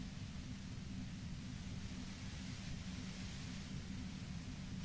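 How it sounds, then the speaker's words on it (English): Steady white noise static from the Disco Elysium video game hisses evenly and loudly throughout, dense and unbroken with no voices. "You hear through the white noise."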